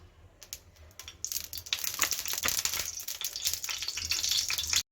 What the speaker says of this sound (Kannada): ಸ್ಟವ್ ಮೇಲೆ ಒಂದು ತವ ಇಟ್ಕೊಂಡಿದ್ದೀನಿ ಅದಕ್ಕೆ ಸ್ವಲ್ಪ ಎಣ್ಣೆನ ಸೇರಿಸ್ಕೊಳ್ತಾ ಇದ್ದೀನಿ